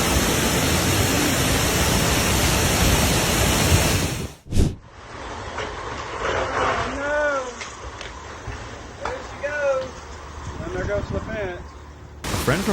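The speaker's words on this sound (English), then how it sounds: "A sudden flash flood in Crete created what looked like a waterfall running across a highway." Flash floodwater rushing across a highway in Crete roars loudly for about four seconds, then cuts away to quieter outdoor sound with voices speaking over it.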